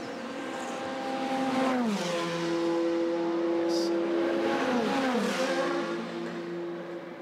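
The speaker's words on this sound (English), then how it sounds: "There is an entertaining battle going on between the Ferraris." Ferrari race cars battle at the 24 Hours of Le Mans 2021, engines screaming steadily at high revs with downshift dips as they brake and climb again, heard at moderate distance with faint commentary underneath.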